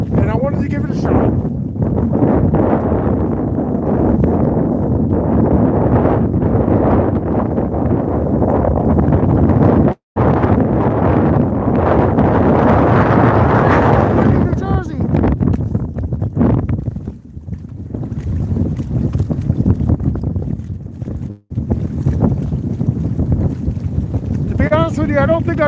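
Strong wind buffets the microphone on a wintry fishing outing, a loud continuous low roar with gusts that swell and drop, broken by two brief dropouts; a voice talks at times beneath the rumble.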